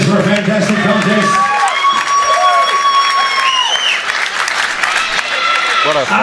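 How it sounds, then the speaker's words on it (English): Audience applause and cheering with whoops for two contest finalists at a boxing-style contender event, loud and sustained throughout with crowd noise and a few voices shouting over it. "big round of applause to both finalists for a fantastic contest"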